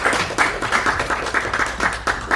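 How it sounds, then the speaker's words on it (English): A small audience claps steadily for a couple of seconds to open a book launch event, with a quick run of overlapping hand claps and no speech over it. "You clap now."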